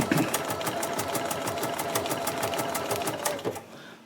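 A sewing machine runs steadily, blanket stitching the raw edges of an appliqué with a fast, even train of needle strokes up close, then stops just before the end.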